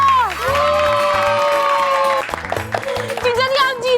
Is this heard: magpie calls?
no